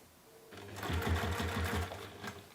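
A sewing machine stitches a fabric bowling bag in a short, close, steady run of rapid mechanical needle clatter that starts abruptly and then fades, with no talk over it.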